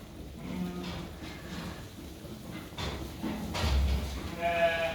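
Sheep on a farm bleat around feeding time, with a few faint calls over a steady background of shuffling and rustling.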